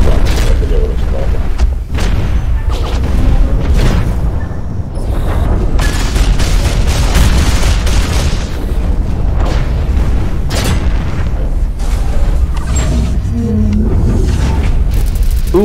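Grenade launcher blasts in the mech shooter Hawken, a dense run of loud booming explosions and mechanical clanks throughout, with a voice talking over the battle noise.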